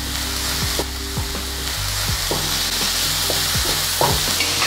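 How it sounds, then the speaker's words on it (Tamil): Onion, green chili, ginger and garlic sauté in a pan, with a steady sizzle under repeated scraping strokes of a spoon stirring them. "இந்த வெங்காயம், பச்சை மிளகாய், இஞ்சி, உள்ளியெல்லாம் வதங்கி கொண்டிருக்கேக்கே"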